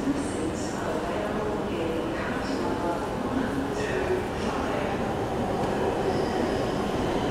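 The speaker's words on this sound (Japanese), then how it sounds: "列車が参ります。" Yamagata Shinkansen Tsubasa train, coupled to an E5 series set, arriving at a station platform, a steady loud rumble of wheels with faint high squeals and clatter throughout.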